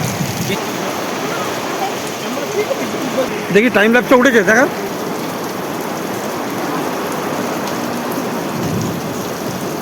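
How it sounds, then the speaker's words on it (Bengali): Steady heavy rain pours throughout in hill country near Dharagiri Falls, a dense constant hiss, with a voice speaking briefly in the middle. "এই আজ বৃষ্টি থামবে, বৃষ্টি থামলেই মঙ্গল"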